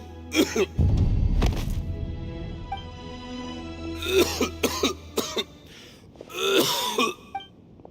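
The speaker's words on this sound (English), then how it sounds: "Why is he coughing so much?" A video game character in Genshin Impact coughs and clears his throat repeatedly in harsh, rasping bursts, separated by short pauses over a low rumbling background.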